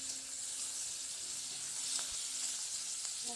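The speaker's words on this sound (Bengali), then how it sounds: "পেঁয়াজটা ভালো করে ভেজে নিচ্ছি" Chopped onions frying in a pan for a dal tempering, a steady quiet sizzle with faint stirring scrapes and a soft clink near the end, no voices.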